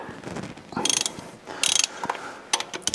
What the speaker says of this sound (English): let's go ahead and get these bolts out of the end of the crankshaft